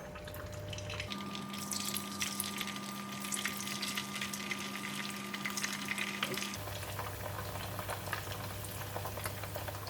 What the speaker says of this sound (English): In the pan, I have the hot oil, so we're just going to put in the tofu.